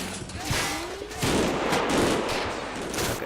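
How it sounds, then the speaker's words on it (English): MG42 machine gun bursts from a Normandy combat game, sharp sustained rattling fire with dense broadband crackle throughout, moderately loud with a denser stretch of shots in the second half and no talk over it. "That's an MG42."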